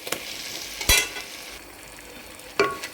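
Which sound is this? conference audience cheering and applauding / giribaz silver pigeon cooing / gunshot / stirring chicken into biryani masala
stirring chicken into biryani masala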